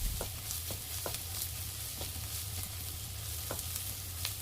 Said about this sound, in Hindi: अभी प्याज ब्राउन होने लग गया है, इसमें मैं करूँगी चिकन ऐड।